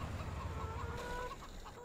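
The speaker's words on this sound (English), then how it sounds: "This is our chickens." Chickens cluck in a farm yard within Farming Simulator 2017, a steady run of soft, close clucks from several fowl with no talking.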